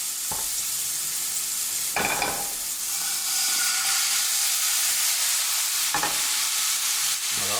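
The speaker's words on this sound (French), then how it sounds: "Le feu, on le met pas trop fort, on déglace." Shallots sizzle in a pan sauce over moderate heat while it is deglazed, giving a steady hissing fry with bursts of steamy spitting and a few sharp stirring scrapes, close and without talk.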